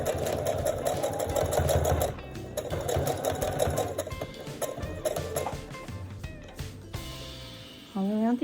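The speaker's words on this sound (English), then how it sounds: "And so now to make the folds stay in, I have to sew" A sewing machine runs in steady bursts while stitching around the edges of a folded fabric face mask, its rapid mechanical chatter loud and close with brief pauses between runs.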